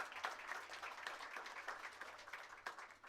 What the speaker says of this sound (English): Please give the YMCA a big round of applause.